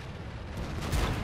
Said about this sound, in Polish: Przyjmuje strzał.